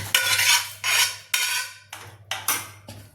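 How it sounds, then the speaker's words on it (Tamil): Cooked bottle gourd is mashed in a pan with a wooden churner, producing close, loud rhythmic scraping strokes, about six rough bursts separated by short pauses, with no voices. "இப்போ இந்த சுரக்காய் நம்ம ஒரு மத்தால் நல்லா மசிச்சுக்கிடணும்"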